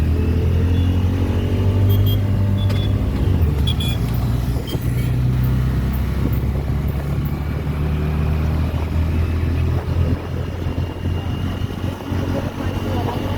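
Cars and other road vehicles pass on a road, forming a steady, close, low rumble that runs unbroken throughout, with small swells as individual vehicles go by.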